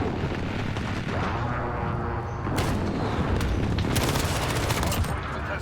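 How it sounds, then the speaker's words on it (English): Precision airstrike explosions in a Call of Duty–style game boom and rumble in a dense barrage, with sharp blasts and crackling gunfire layered over a loud continuous roar. "Friendly precision airstrike on the way."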